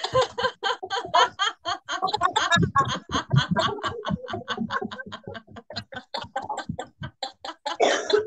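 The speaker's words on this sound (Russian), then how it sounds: "вместе с кашлем мы сплевываем мокроту" Coughing and throat-clearing mixed with bursts of laughter during a laughter yoga session, repeated short rhythmic bursts from a group, close and fairly loud, with some voices in between.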